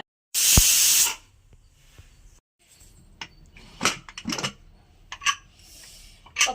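A pressure cooker cooking moong dal lets out one loud, close burst of hissing steam lasting about a second, then quieter scattered clinks and rustles of kitchen activity.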